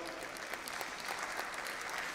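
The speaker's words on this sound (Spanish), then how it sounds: "Muchas gracias, un aplauso" Dense, steady applause fills a room at an evening tech event held on a ring stage, an even wash of many hands clapping with no break.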